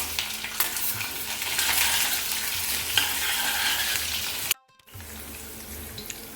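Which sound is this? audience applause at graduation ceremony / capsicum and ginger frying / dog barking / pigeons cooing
capsicum and ginger frying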